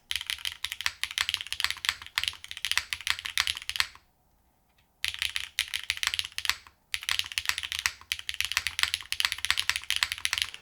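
Rapid, steady typing on a mechanical keyboard, crisp and fairly loud, with deep thocky keystrokes; two short pauses break the otherwise continuous clatter.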